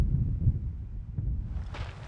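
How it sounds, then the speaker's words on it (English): Low, rumbling wind buffets the microphone in steady gusts, with no voices present. "It's rather windy here because we're out in the open"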